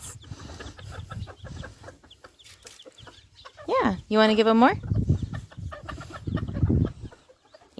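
Chickens cluck close by in a summer garden as they are fed, with one loud drawn-out squawk in the middle, while people talk quietly throughout.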